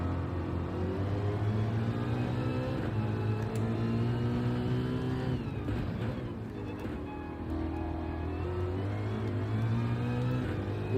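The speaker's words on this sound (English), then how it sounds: "Really love this car, it just sounds so good." A race car engine in a racing video game on Trial Mountain Circuit, holding a steady high, smooth drone with slight pitch shifts as it accelerates and backs off through corners, continuous and loud with no voice.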